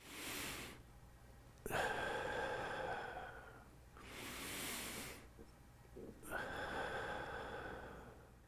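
During a relaxation exercise, a person takes slow, deep breaths close to the microphone, with long airy inhales and exhales alternating in a steady rhythm and no talking.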